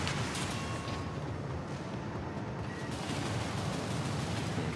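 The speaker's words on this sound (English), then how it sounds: "We use the charge linear rifle shots." Charge linear rifle shots in the Armored Core Fires of Rubicon video game, heard as a dense, loud, continuous barrage of blasts and explosions mixed with heavy rumbling combat noise throughout.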